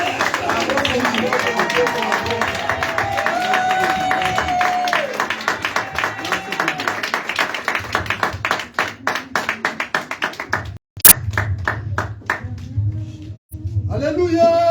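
A church congregation breaks into sustained, rhythmic clapping and applause that rises and thins out over time, with voices speaking and calling out over it.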